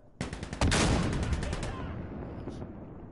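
A sudden burst of rapid gunfire in the video game Insurgency, loud and close, rattling for over a second before fading into a reverberant tail.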